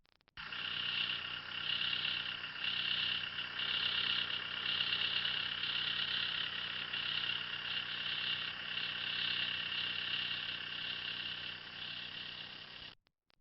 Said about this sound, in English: Carefully drive the tractor into the push frame.